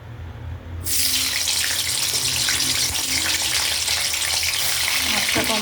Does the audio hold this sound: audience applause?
no